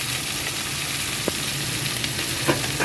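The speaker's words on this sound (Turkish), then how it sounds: "Şöyle altını üstü kızaranları altı çeviriyorum." Chicken wings fry in a pan, a steady broadband sizzle running throughout with a few faint clicks as pieces are turned, fairly quiet and close with no talking.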